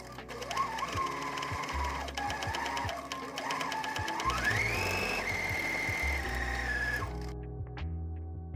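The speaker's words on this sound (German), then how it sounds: "Und die offene Kante der Schulternaht dann jetzt einmal noch mit der Overlock bzw. einem Zickzackstich oder einem Overlockstich deiner Nähmaschine versäubern." Overlock serger finishing the raw edge of a blouse shoulder seam, a steady fast whirring run of stitches that speeds up midway and then stops abruptly near the end, close and alone with no talk.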